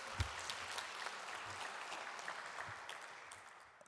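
A crowd applauds, with steady clapping that slowly fades toward the end.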